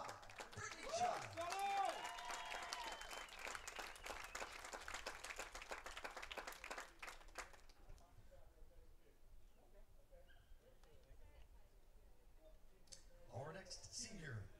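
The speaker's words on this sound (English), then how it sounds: "Please give one final GSW round of applause" A crowd at a college softball senior day ceremony applauds, with steady clapping and cheers for about seven seconds under a public address voice, then fading to quiet with brief talk at the end.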